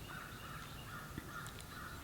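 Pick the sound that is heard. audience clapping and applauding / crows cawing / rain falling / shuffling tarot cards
crows cawing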